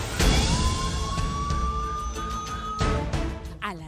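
A police patrol car siren outside the national criminal court sounds as one long rising wail over busy street noise, with a few louder bursts and a short warbling yelp near the end.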